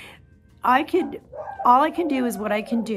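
Dogs barking and yipping in the background while someone speaks over them at close range, the barks short and intermittent under her voice.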